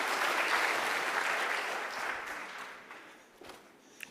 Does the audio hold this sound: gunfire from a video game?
no